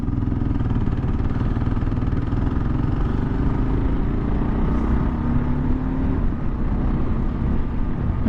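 A 2023 Kawasaki KLR650 single-cylinder engine under way while riding, a loud, steady low thumping drone with constant wind rush, no voices over it.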